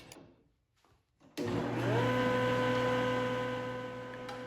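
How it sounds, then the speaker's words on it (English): A wood jointer working cutting board stock starts with a thump after quiet handling noises, then spins up into a loud, steady motor whine and hum that holds close and continuous. "and then we'll move over to the joiner."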